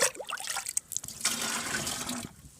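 Water is poured to fill a 10-litre container for feeding strawberries, a splashing, trickling flow with bubbly gurgles that starts in bursts and then settles into a steady stream before tapering off.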